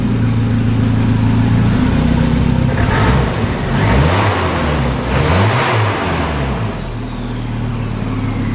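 An 80s Volvo turbo car engine idling close by, then revving up and down in rising and falling sweeps mid-clip before settling back to a steady idle, with no talking.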